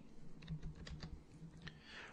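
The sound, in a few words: typing on a computer keyboard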